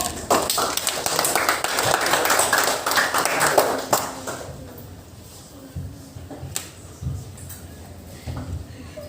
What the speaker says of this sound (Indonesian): aplaus dulu buat kelompok